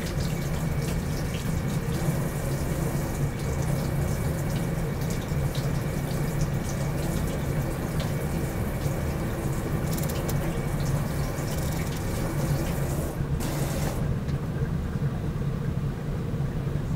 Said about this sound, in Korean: 석이버섯은 비벼서 이끼를 제거하고 흐르는 물에 깨끗이 씻습니다